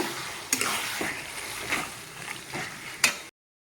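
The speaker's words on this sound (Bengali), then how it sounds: "আমি পেস্ট করে তো মশলার সাথে আমি ভালোভাবে মিক্স করে নেব" Tomato paste gets stirred into ground garlic, green chili and spices in a pan, producing a soft sizzle broken by a few sharp scraping clinks, brief and close.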